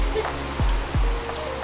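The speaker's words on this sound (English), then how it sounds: "Oh look, it's raining right now." Rain falling in humid coastal Nuquí, Colombia: a steady close patter on surfaces, broken by a couple of low thumps.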